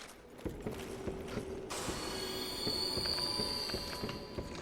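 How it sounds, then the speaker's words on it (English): Heavy door mechanism grinding open in Dark Souls II, a low creaking, rattling churn with metallic squeals, close and steady for several seconds with no talk. "Sounds like that's opening the door down here"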